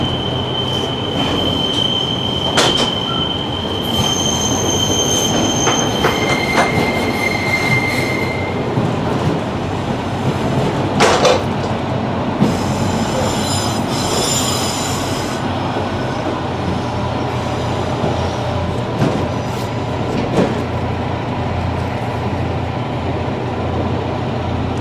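A Pacer diesel train with poor suspension rides along near Cardiff, giving a loud, continuous interior rumble with rattling, clattering wheels and occasional high-pitched wheel squeals.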